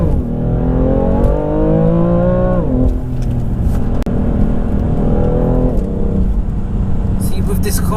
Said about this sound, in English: You gotta rev it to the end, Andrew.